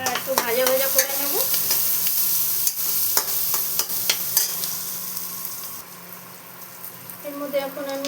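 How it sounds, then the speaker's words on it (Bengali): Onion, garlic, salt and turmeric fry in a pan for a Loti Chingri dish, with steady close sizzling and scraping stirs throughout, while a voice talks in the background partway through. "এবার একটু ভাজা ভাজা করে নেব।"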